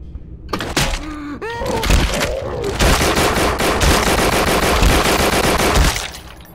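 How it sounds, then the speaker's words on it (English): Video game gunfire shooting a zombie, a rapid, loud burst of sustained automatic fire lasting several seconds after a few thuds and a brief voice. "Hey, I shot through it, now it's dead!"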